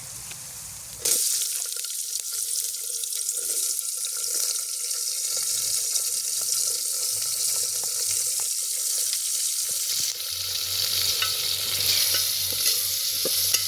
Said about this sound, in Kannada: ಇವಾಗ ಶೀಸ್ ಪುಟಿಂಗ್ ಆನಿಯನ್ ಅಂದರೆ ಈರುಳ್ಳಿ ಹಾಕ್ತವ್ರೆ